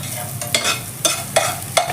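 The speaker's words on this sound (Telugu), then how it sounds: "ఇప్పుడు చికెన్ తాలింపు వేసుకోవాలి." Tempering for a fenugreek-leaf chicken fry sizzles loudly in a pan, broken by four sharp spatula scrapes at a quick, irregular rhythm, close up with no voices.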